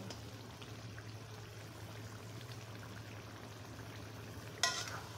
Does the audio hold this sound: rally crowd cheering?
no